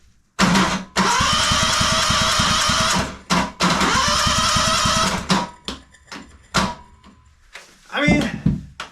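Old engine from a large salvaged pile being cranked and sputtering, coming close to catching; two long loud bursts of cranking and firing end in irregular coughs and pops, and a voice comes in briefly near the end.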